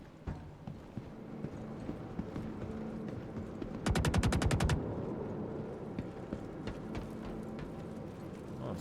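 A rapid, evenly spaced string of F9 LMG machine-gun shots in modded Skyrim rattles out for under a second over a steady low background hum, fairly distant and otherwise quiet.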